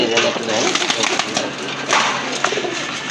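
Large pigeons of good quality coo in a busy market setting, their soft calls repeating amid steady crowd chatter and people talking nearby.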